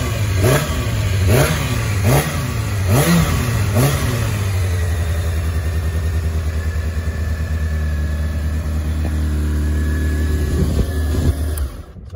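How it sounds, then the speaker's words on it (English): A 2000 Honda CBR600F motorcycle with an aftermarket exhaust revs sharply several times, throaty and loud, then settles into a steady rumbling idle before cutting off. "I'll leave it running just for a second, just so you can hear the engine."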